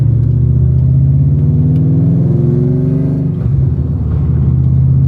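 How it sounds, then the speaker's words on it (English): Steady, loud car engine running on E85 ethanol fuel during a cruise, a continuous low rumble with rising and falling rev tones throughout and no talk. "just taking the car out for a cruise today"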